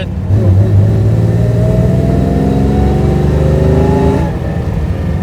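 A classic car engine idling loudly and steadily close by at the Pebble Beach Concours, with a rising whine, then easing off near the end; voices talk faintly over it.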